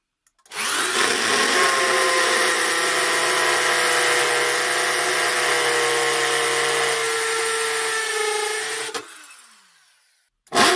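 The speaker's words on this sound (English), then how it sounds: "But first I will drill the hole in the middle" A power drill bores the centre hole in a 16.5-inch heavy brass ride cymbal, a loud, steady high-pitched whine and grinding screech lasting about eight seconds before cutting off abruptly.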